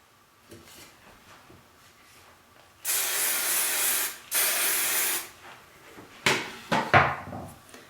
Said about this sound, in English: That's about all the hairspray you'll need